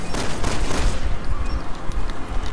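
Dense, continuous gunfire from the zombie shooter Resident Evil 6 in Mercenaries mode, rapid overlapping shots forming a loud sustained fusillade with no talk.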